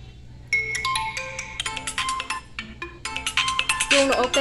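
An Oppo S1s phone plays its ringtone, a bright, rhythmic electronic melody of quick repeated notes, loud and close, starting after a brief pause.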